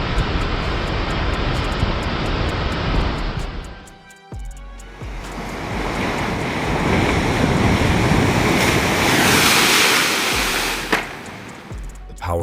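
Powerful storm waves pound the Santa Cruz coast near a pier and sidewalk, a loud continuous roar of surf and wind with a brief dip before another big crashing surge builds.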